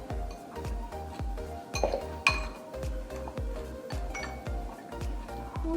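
Cinnamon, sugar, butter and flour are mashed together in a bowl with repeated rhythmic clinks and scrapes of a utensil against the dish, fairly close and faint, with a few sharper knocks.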